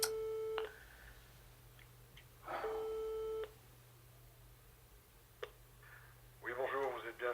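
A telephone call goes unanswered, with repeated steady electronic ring tones sounding through the earpiece in bursts. Someone speaks briefly near the end over the faint line hiss.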